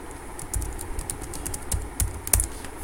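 Steady typing on a computer keyboard while entering macro code in Excel, with irregular clusters of light key clicks at close range and no voices.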